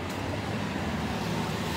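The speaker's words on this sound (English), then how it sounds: "I'll let the traffic go by." Road traffic passes nearby outdoors in a continuous, moderately loud roadway rumble with steady low hum and broadband hiss, no talk.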